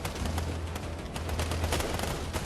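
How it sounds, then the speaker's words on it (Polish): Bots firing guns in the video game Fortnite, a continuous loud rattle of rapid shots packed together with a steady low drone underneath and no speech. "Bo te boty zaczęły strzelać."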